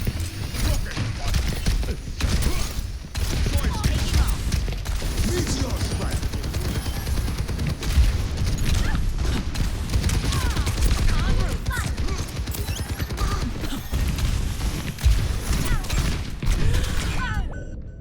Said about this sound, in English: Doomfist does a lot of damage with the shotgun